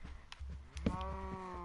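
A Minecraft cow moos in a survival game on PS4, a short low game-animal call that swells up loud and close near the end, with a fainter call before it.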